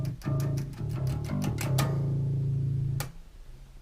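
Electric bass plays a quick pentatonic pre-chorus riff of several plucked notes, then lets the last note ring for a beat, close and clear, followed by one more sharp attack near the end.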